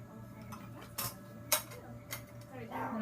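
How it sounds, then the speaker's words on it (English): Two clay-sealed tubes being set into a lab centrifuge: a few sharp plastic clicks and taps spaced about half a second apart, close and fairly quiet over a steady low hum. "I'm going to take my 2 tubes with the clay facing the outside, and they're going to be balanced on opposite sides"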